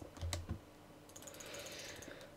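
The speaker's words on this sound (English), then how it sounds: "By spam clicking." Rapid bursts of mouse clicking while building in a game, quick crisp taps in clustered runs, fairly faint and close, with no talking over them.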